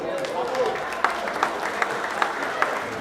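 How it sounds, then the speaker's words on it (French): An audience applauds at a prize-giving ceremony in Saint-Claude, a dense, steady wash of clapping with a few sharper, louder claps standing out at regular moments. "vous devez applaudir son parcours quand même"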